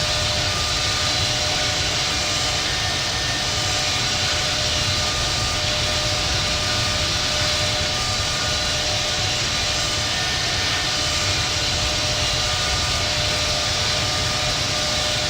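An American Airlines Boeing 777-200 takes off in the Infinite Flight simulator, a loud, steady roar of jet engines with a broad hiss and sustained tonal whine that holds constant for the whole stretch.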